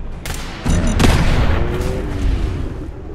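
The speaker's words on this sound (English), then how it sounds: "I can get a few shots in myself." Heavy gunshots in Fallout 4, a few loud booming blasts close together near the start followed by a rumbling decay and lingering battle noise.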